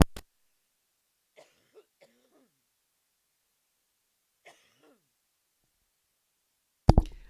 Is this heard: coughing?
yes